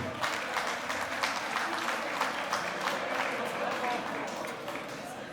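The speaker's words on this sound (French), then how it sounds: "Est-ce que nous pouvons applaudir pour notre association," Audience clapping for an association at an anniversary celebration in a hall, a dense continuous patter of hands with a low steady hum beneath it, moderate in level and fading slightly toward the end.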